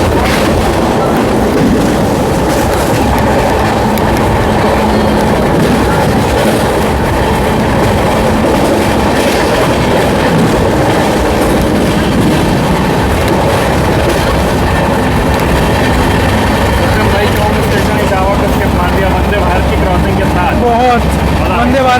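Amrit Bharat Express train running steadily on the tracks, a continuous loud rumble with faint rhythmic wheel clatter throughout and a voice speaking over it.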